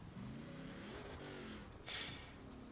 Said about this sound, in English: So what if I'm slamming through fences at 400 kilometers an hour in my modified truck?